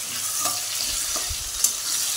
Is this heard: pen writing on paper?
no